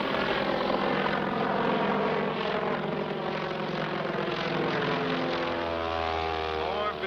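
Loud, droning propeller aircraft passing overhead, a steady throbbing engine roar that shifts in pitch as it moves.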